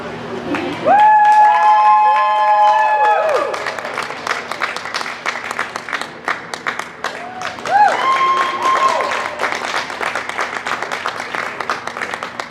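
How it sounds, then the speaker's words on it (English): Crowd in a show ring at a Jersey cattle show giving exhibitors a round of applause, dense clapping with a few whistles and cheers, continuing under a voice over the loudspeaker. "I'd like you to give these exhibitors a big round of applause"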